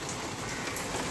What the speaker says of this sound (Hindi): बारिश तो हो ही रही है,